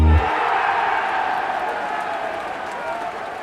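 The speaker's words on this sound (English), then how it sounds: "big round of applause for my next guest" Broad, steady crowd applause filling the space, a dense wash of clapping that holds at an even level and tapers slightly toward the end.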